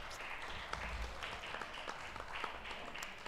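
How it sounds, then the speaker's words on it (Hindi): Applause from an audience at the National Transgender Awards 2023, faint and distant, a thin continuous patter of clapping that never swells. "तालियां कम होते जा रही है"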